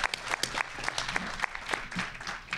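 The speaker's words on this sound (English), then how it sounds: "please give them a round of applause" An audience at a board meeting claps for a committee, a steady patter of many hands with sharp individual claps standing out, moderately loud and close, with no voices over it.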